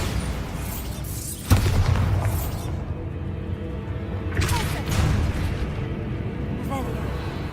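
A Bombarda spell goes off in Hogwarts Legacy, one sharp booming blast followed by a rumbling tail, with more bursts and game effects later under ongoing game sound and voices.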